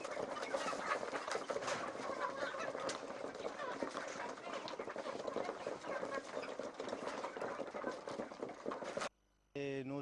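Local hens in a farmyard clucking amid dense, continuous busy ambience with voices and other activity mixed in, steady and fairly loud throughout before a brief cut near the end.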